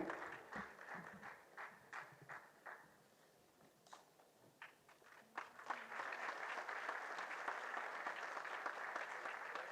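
Audience applause at a college annual function, starting as scattered, uneven claps and swelling into full, steady clapping from a large crowd in the second half, moderately distant with no speech.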